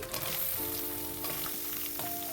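Chopped onion fries in hot oil with ginger, cumin and green chili paste, making a loud, continuous, close sizzle with a faint tonal whine running beneath it and no speech.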